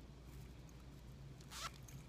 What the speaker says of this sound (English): And it zippers open